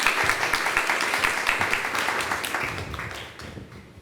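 Audience applause at the start of a humanities lecture, brisk even clapping from a small crowd that slowly tapers off over about four seconds.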